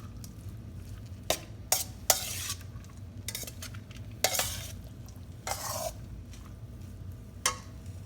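Shrimp and vegetable fried rice sizzles steadily in a pan while a utensil scrapes and stirs it, with irregular sharp metallic clinks and scrapes over the constant frying hiss.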